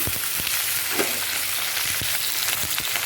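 Prawns, pumpkin, potato and Malabar spinach fry in a pan with a loud, steady hiss, while a few soft stirring knocks come through the sizzle.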